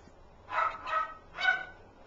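A mother dog near her eight-week-old puppies gives three short fussy barks or yips in quick succession, moderately close and otherwise quiet.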